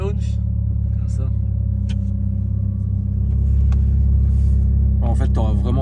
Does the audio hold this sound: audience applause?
no